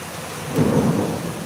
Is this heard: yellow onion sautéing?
no